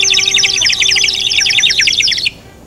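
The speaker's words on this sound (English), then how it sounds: "the birds were singing in the" Birds chirp and tweet in quick, rapid trilling phrases for about two seconds, loud and close, over a faint sustained tone and background hum before cutting off.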